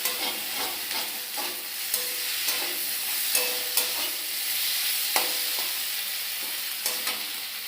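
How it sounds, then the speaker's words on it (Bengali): Water goes into a pan of sautéed potatoes, which sizzle and hiss steadily up close. Regular sharp scraping clicks from stirring run throughout, and no one speaks. "এই যে এবার জল দিন।"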